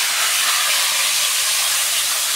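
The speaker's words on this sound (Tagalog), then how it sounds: "So, ilalagay ko na itong isdang ito" Fish frying in hot cooking oil on a stove, a loud, steady, close sizzling hiss that stays constant throughout with no talk.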